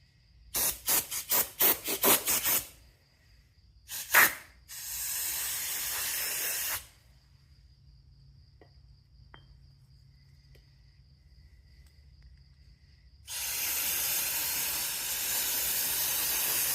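Brake cleaner sprayed onto a generator carburetor: a quick series of short hissing bursts, then two sustained loud sprays of a few seconds each separated by a long quiet gap, close by with no talking.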